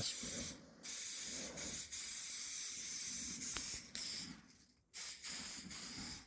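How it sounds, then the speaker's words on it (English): Pam cooking spray hissing onto a burger grill in several bursts, some long and some short, with brief pauses between them and one sharp click, close and fairly loud. "We don't want the burgers to stick to the grill. Just Pam or whatever."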